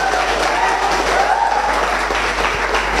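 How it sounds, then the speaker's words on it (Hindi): Crowd applause at a Mumbai gathering marking Sushant Singh Rajput's 37th birthday, honouring journalists: a dense, steady wash of many hands clapping that holds at an even loudness for the full stretch, with no break. "उनके लिए ताली हो जाए।"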